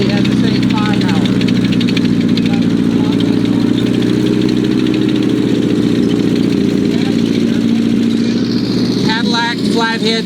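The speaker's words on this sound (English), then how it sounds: "Cadillac flathead V8 engines that work together to power the tank." Light tank powered by twin Cadillac flathead V8 engines running, a loud steady low rumble and idle throb throughout with a brief higher whine near the end.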